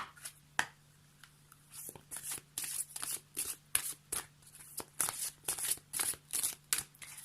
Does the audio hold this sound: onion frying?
no